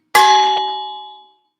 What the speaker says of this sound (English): All right, I got this big old bell ready for you to make a point.